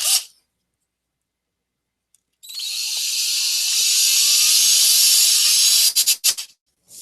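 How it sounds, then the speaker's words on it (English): A power drill bores through cork in one steady, close whine lasting several seconds before cutting off with a few short bursts, heard alone in an otherwise quiet room. "So let's drill that hole."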